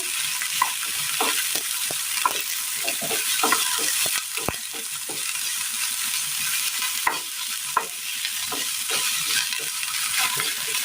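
Onions sautéing in a pan, a steady broadband sizzle with repeated scraping stirs of a spatula, close and fairly loud, no voices.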